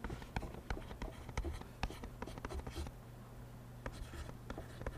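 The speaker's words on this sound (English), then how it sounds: "Now we're back to writing." Pen scratching on a board or paper during a science lesson on naming chemical compounds, a quiet run of short rhythmic strokes with pauses, faint and close.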